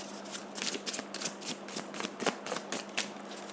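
Tarot cards riffled and shuffled by hand in quick, repeated bursts, close and fairly soft, over a faint steady background hum.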